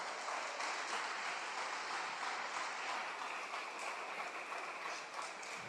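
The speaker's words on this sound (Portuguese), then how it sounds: "bate palmas para Jesus" A church congregation claps along in worship, a dense, continuous wash of many hands clapping together for several seconds with no voices on top.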